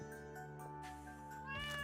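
Faint high meowing from a cat in a video game, a couple of short tonal mews over soft background music.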